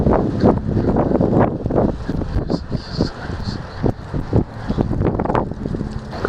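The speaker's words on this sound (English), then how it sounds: "Here's some wind." Gusty early-winter wind blows outdoors, buffeting the microphone with loud, rumbling rushes that rise and fall continuously throughout.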